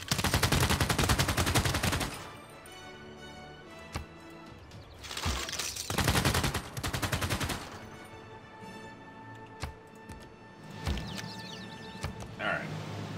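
Rapid bursts of gunfire from units in Civilization VI, loud clusters of shots at the start and again midway, with quieter game music and effects between them.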